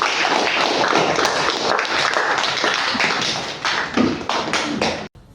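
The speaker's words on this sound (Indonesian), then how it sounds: "Tepuk tangan buat Alkansa." A classroom of students claps for a classmate after a coding and computational-thinking lesson, brisk overlapping applause that runs for about five seconds and then stops abruptly.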